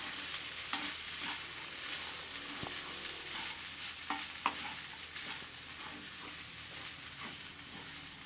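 Red aval vegetable upma being stirred in a pan: a continuous soft sizzle with repeated scraping strokes of the spoon, close and steady throughout.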